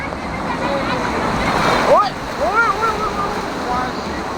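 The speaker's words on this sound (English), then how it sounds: "Going in the rapid river." Rushing water on the Atlantis Dubai rapid river ride, a loud continuous surf-like roar with excited shouts and squeals from riders rising over it near the middle.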